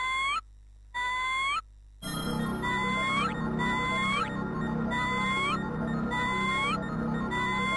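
A Digimon squawking as it digivolves in the PS1 game Digimon World: two short synthetic cries, then a continuous stream of loud, repeated warbling squawks over a busy electronic backdrop.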